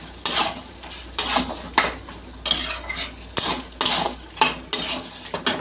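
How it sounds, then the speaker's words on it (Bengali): A utensil scrapes and clinks against a pan in regular rhythmic strokes, stirring fish fat that was fried earlier and is seasoned with salt and turmeric, with a faint sizzle underneath. "এখন আমরা এটাকে ঘেটে দেব।"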